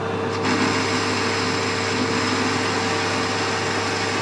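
A plasma cutter slices through a classic car's steel drive shaft, giving a steady, loud hiss and hum that runs unbroken and close for the whole stretch, with no talking.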